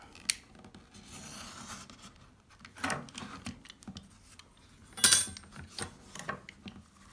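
A knife blade drawn along a ruler cuts leather for a cross-draw knife sheath, making faint, soft scraping strokes with a couple of sharper scratchy moments against a quiet background.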